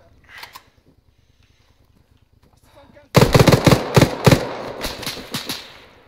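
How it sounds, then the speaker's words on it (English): Loud rapid gunfire in the Arma 3 military shooter game, a sudden burst of sharp close shots and bursts after a quiet stretch with faint shouting, continuing in uneven clusters to the end. "Oh, I just shot Jester!"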